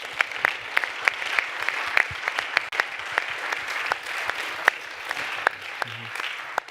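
Sustained audience applause fills a summit room in honor of the digital Sherlocks, a dense, steady wash of many hands clapping at moderate distance, with a few sharper individual claps standing out.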